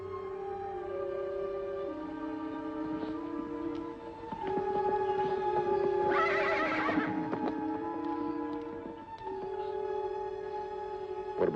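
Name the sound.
horses neighing and hooves clip-clopping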